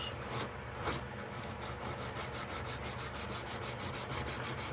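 Grinder marks being rubbed off the blade of a 1974 Case XX electrician's knife, heard as close rhythmic back-and-forth abrasive strokes, fairly quiet, with no voices.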